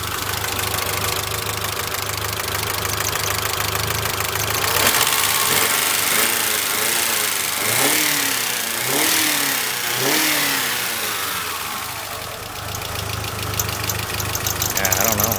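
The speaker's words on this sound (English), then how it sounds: "It's running, it revs smoothly." A Mitsubishi Galant VR4 engine runs under repair, idling steadily, then revving several times in rising and falling sweeps, with a knocking edge, and settling back to idle. Some talk is heard alongside.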